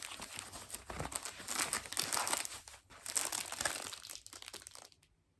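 Paper wrapping around a boxed scissors order is pulled open and crumpled, giving a close, continuous rustling and crinkling that swells and dips before stopping, with no one talking.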